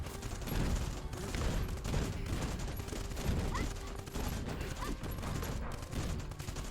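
Rapid, sustained automatic fire from turrets in the video game Cinderia, a dense rattling barrage running continuously with mechanical clatter underneath.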